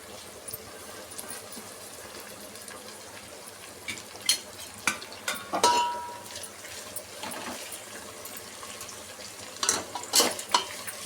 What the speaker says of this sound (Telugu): ఇప్పుడు పుదీనా కొత్తిమీర వేసుకుందాం